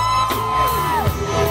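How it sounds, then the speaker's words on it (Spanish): A crowd lets out a loud, sustained shout of joy, with whooping and yelling voices swelling together up close. "Aquí está un grito de júbilo."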